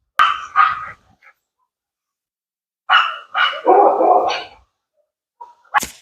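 An adult mother dog barks loudly and close by in a few short bursts of two to three barks, with silent gaps between and a sharp final yip.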